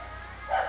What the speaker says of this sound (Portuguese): A cachorra resolveu latir agora.